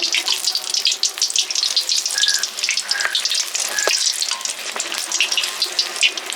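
Sweet ripe palm fruit fritters frying in oil over a medium-low flame, with oil drizzled over them: a dense, continuous crackling sizzle, close and steady throughout, with no voices.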